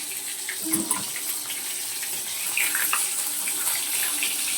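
Water spits and spatters as fish fries in a hot pan, a steady sizzling hiss with scattered crackling pops that rise and fall throughout, fairly close and loud.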